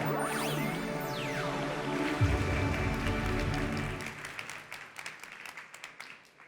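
After a loud swelling musical sting, applause breaks out from a conference keynote crowd, clattering steadily before thinning out into scattered claps.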